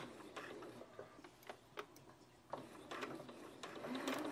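A sewing machine stitches a tapered fabric coffee cup sleeve, its quiet mechanical ticking broken by short bursts of needle clatter. The run ends with a brief backstitch, and no one speaks.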